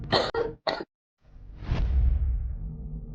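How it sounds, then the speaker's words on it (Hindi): A girl coughs in a Haryanvi audio drama, with three quick, sharp coughs close up, a pause, and then a longer rough breathy cough that trails off. "सर्दी की वजह से लड़की को खांसी भी शुरू हो गई थी"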